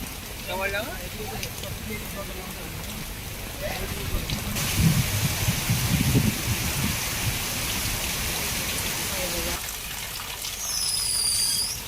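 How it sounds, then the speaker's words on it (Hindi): Heavy monsoon rain pours over flooded city roads as runoff streams along them, a dense, loud hiss of downpour and rushing water that swells in the middle and stays steady throughout. "बारिश का पानी सड़कों पर बह निकला।"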